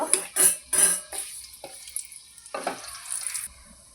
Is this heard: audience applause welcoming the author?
no